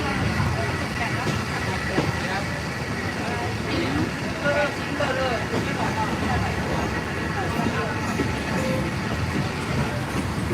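Steady rumble and rattle of a Thai passenger train rolling along rails to Hua Hin, continuous and fairly loud, with voices murmuring underneath.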